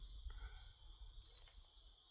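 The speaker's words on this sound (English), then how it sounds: "I hear the crickets now." Crickets chirp at dusk outdoors as a faint, continuous high-pitched trill over low background rumble, distant and quiet, with no talking.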